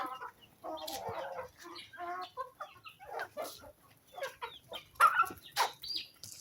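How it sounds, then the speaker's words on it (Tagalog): A pet chicken clucks in short, irregular bursts at close range, and the sound is fairly quiet. Scattered bits of other household noise sit around the clucks, and no voices are clear. "Manok."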